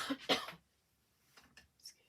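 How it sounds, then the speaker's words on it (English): A couple of short, breathy coughs close by, followed by quiet and then a few faint rustling noises. "bit of a cough."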